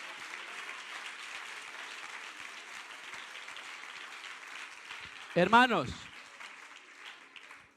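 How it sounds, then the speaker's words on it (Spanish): A church congregation applauds during a sermon, a continuous wash of clapping heard from some distance, with a voice briefly calling out partway through. "Denle el aplauso al Señor."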